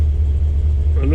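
Jaguar S-Type car engine idling steadily after a hard start, a continuous low rumble close by, with brief voice-like sounds near the end.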